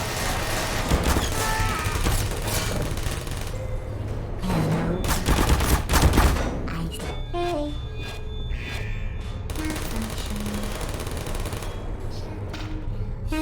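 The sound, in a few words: turret gunfire ambush in the video game Portal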